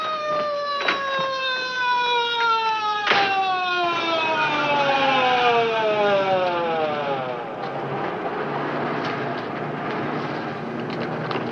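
An ambulance siren wails with a falling, drawn-out tone that winds down steadily, loud and close, with a couple of sharp knocks early on.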